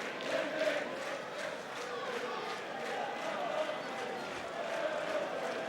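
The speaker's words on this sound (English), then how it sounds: "most of the noise you can hear now is stemming from behind Joe Murphy's goal, where the Manchester United fans are housed" Manchester United supporters in the away end of a football stadium at a Carling Cup match against Scunthorpe United keep up a steady, distant roar of crowd noise and chanting, with no break throughout.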